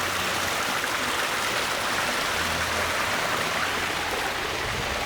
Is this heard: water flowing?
yes